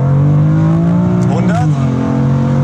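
A 600 hp G-Power-tuned BMW M4 pulls hard from 100 to 200 km/h, its loud engine note rising steadily with a brief shift-like break midway; a voice is faintly present under the roar.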